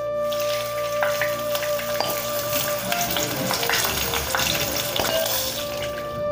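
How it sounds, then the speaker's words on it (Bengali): Steady, loud sizzling of paneer frying in hot oil, a dense crackle throughout with occasional light clinks of utensils. "আমি গরম তেলে ছেড়ে দেব এবং চারিদিকে সুন্দর করে ভেজে নেব।"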